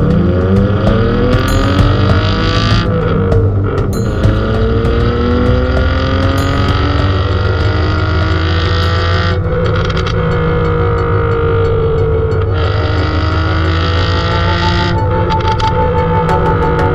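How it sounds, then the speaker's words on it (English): A Toyota Celica with a swapped-in BMW M50 engine runs loud and close, its exhaust note holding a steady tone as it rises and falls through several revs and shifts, with no voices. "This is his BMW M50 powered Toyota Celica."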